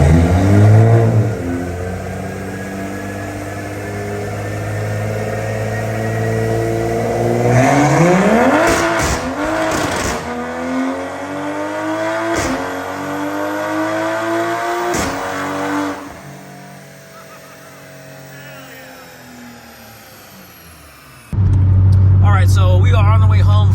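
Engine of a 2020 Toyota A90 Supra revving hard on a dyno, rising through the gears in a long, loud climbing pull with shifts, then settling before a rough idle returns at the end.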